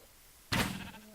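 A sheep in the Minecraft video game gives a single abrupt, loud bleat after a quiet stretch, trailing off with a faint tonal tail.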